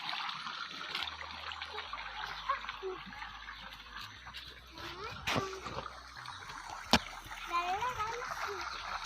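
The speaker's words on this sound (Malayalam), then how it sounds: "വെള്ളത്തിൽ ഞാൻ കല്ലിടുന്നു." A stone tossed into water on a small farm lands with a short splash amid trickling water and outdoor ambience, while a child and an adult talk throughout.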